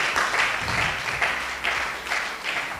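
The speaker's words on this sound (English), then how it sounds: "Please, let's put our hands together for him." Audience applause at a student induction ceremony, a dense steady wash of clapping that swells in repeated waves for about three seconds, moderately loud with no talk over it.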